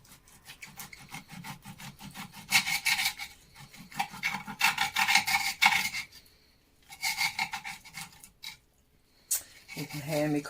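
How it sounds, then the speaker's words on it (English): Rhythmic knife strokes cut through pork on a slate board, a close, gritty rasping scrape repeated in bursts with brief pauses between them, ending with a short thud. "You can hear me cutting onto a slate board"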